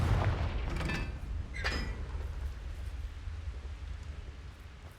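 A Confringo blasting spell in Hogwarts Legacy goes off as a deep booming burst, followed by a couple of sharper crackling hits in the first two seconds, then a long rumbling low-end tail that slowly fades.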